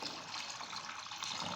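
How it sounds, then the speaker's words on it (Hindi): Water poured over washed wheat grains in a bowl, soaking them to make samnak (angoori aata) for sohan halwa; a steady, close, continuous gushing splash with no talk. "अब मैं इसमें पानी डालूंगी।"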